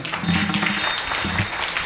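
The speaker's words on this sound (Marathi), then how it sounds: "एक जोरदार टाळी वाजवा" Crowd at a devotional kirtan gathering clapping loudly for the organisers and musicians. Dense, steady applause fills the space with no clear voices over it.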